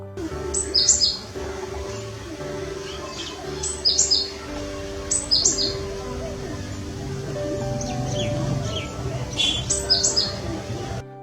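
A cinereous tit gives repeated short, bright call phrases at regular intervals on a migratory-bird island, heard clearly over a steady outdoor hum with faint murmuring in the background.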